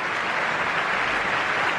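Steady, dense applause rises from a stadium crowd at a Liverpool all-star charity football match as goalkeeper Brad Jones leaves the pitch. It stays even and continuous throughout.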